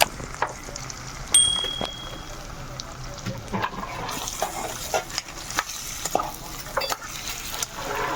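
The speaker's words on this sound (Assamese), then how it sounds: "প্ৰথমে মাংসখিনি ভাজি লওঁ" Chicken meat frying in a pan for a chicken curry, a soft continuous sizzle broken by scraping stirs and occasional clinks of the spoon against the pan.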